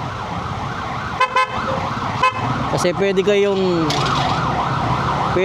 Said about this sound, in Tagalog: pag mayroon kayo nakikita o naririnig na ambulansya, kailangan tumabi kayo.